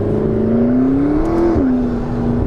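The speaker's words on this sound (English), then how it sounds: "the turbo noise is massively emphasised in this car" A McLaren 570S engine holds a smooth, loud, sustained rev with a rising tonal whine that peaks and then eases back slightly, heard close with no talking.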